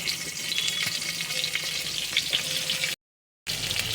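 Sliced onion frying in hot oil for ghugni, a steady close sizzle with a faint whistle-like tone, broken by a half-second gap of silence before the frying resumes.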